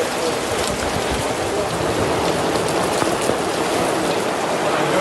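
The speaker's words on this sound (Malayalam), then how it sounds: "പത്തനംതിട്ട നഗരത്തിലും മലയോര മേഖലകളിലും കോഴിക്കോട് മുക്കത്തും ഉച്ചയ്ക്ക് ശേഷം കനത്ത മഴ ലഭിച്ചു." Heavy afternoon rain falls over Pathanamthitta town and its hill areas and over Mukkam in Kozhikode, a dense, steady, unbroken hiss that fills the whole stretch.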